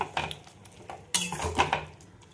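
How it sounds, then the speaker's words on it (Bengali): A lid goes onto a pan of cooking fish with a few light metallic clinks, then a louder clattering clank as it settles, close and without talk. "অল্প করে গরম মশলা মিশিয়ে আমি এবার ঢেকে দেব"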